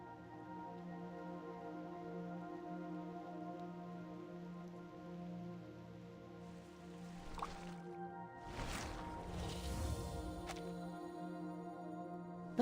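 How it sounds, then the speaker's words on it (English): Rain falls steadily in the video game Reverse: 1999, a soft continuous patter beneath layered game music, swelling with a denser wash and splashy bursts in the final few seconds. "Entering the stage in the rain."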